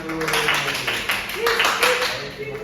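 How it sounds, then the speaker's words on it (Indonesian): Clapping from a small class of students in a primary-school lesson, a brief burst of close hand claps mixed with voices talking over it. "Kasih tepuk tangan dulu."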